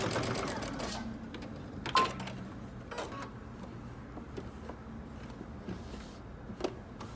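A sewing machine stitches and backstitches a dress seam in short quiet bursts of mechanical whirring, with soft clicks and handling noises between runs and a voice speaking intermittently nearby.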